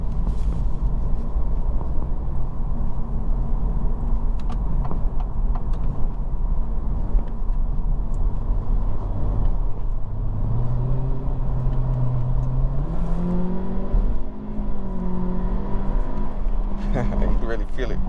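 A 2023 Acura Integra A Spec turbo engine under acceleration, its tone climbing steadily as revs build into VTEC, heard from inside the cabin over road noise while people talk.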